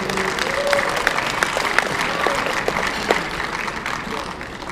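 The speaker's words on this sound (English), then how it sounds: "So I'm gonna need you guys to clap a little louder." Applause from a seated banquet audience greeting a speaker introduction, a steady moderate patter of many hands with a few sharper individual claps, slightly distant and filling the room.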